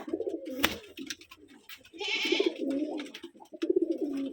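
Pigeons at a Rajshahi pigeon farm coo close by in repeated low, rolling phrases, one bird calling over and over with short gaps and a faint rustle in between.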